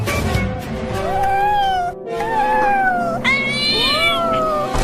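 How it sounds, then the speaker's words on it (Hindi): Cartoon cat meowing over and over, loud and close: a string of drawn-out, wavering meows, some rising into caterwaul-like cries, with only short breaks between them. "ये बिल्ली इतना बोल क्यों रही है, वो भी हमारे पास आकर"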